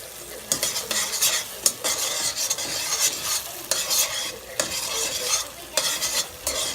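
Sauce for an Asian noodle dish with scallops simmers in a pan as a utensil stirs it, giving a soft continuous sizzle broken by repeated scraping strokes at an irregular rhythm, close and moderately quiet.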